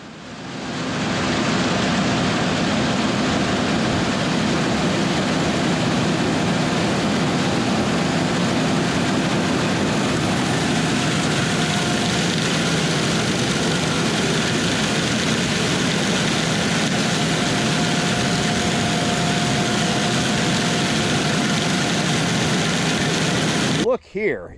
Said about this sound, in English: Cummins 6-cylinder diesel engine and rated at around 195 horsepower